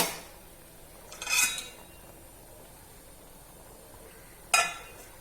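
A spoon stirs ghee rice in a metal pot, with two short scraping clinks against the pot, one near the start and another near the end, over quiet background.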